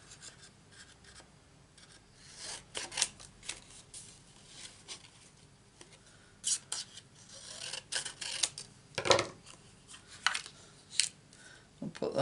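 Scissors cut through paper for a stamped greeting card, a string of close, crisp snips and rustles in short bursts with pauses between.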